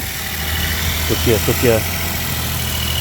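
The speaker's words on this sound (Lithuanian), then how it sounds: "Ir jisai tas motoras veikia." A 1-litre three-cylinder VW T-Cross engine idles steadily at close range, a constant low hum with faint vibration, while a person speaks briefly over it.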